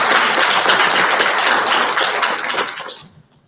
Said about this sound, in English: I know you're applauding because I'm the last one.